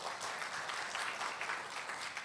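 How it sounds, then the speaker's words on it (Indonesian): A church congregation applauds steadily in a hall, a dense, even wash of clapping heard at moderate distance, with no speech over it. "Tepuk tangan buat Tuhan."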